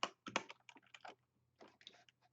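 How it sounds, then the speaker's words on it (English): Keys clatter on a computer keyboard as a word is typed into a gardening spreadsheet, two quick bursts of crisp clicks separated by a short pause, close and quiet, no voices. "So I type in sunflower."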